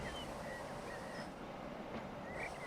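A train rolls along in the video game Transport Fever 2, a faint steady rumble of rail noise with a few high squeals, no talking.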